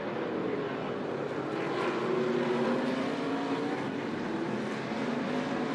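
Stock cars of the ARCA Menards Series West racing at Sonoma Raceway, a continuous loud roar of engines under braking and acceleration through the road course's S-turns, with no clear talk.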